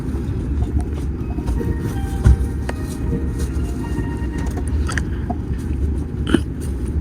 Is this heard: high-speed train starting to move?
yes